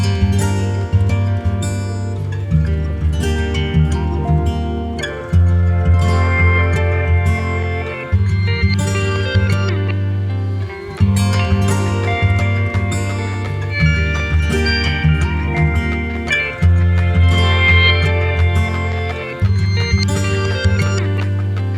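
A repeating electronic music loop in Ableton with a deep bass pulse and bright chords, the tone sweeping brighter and darker as auto filter automation moves.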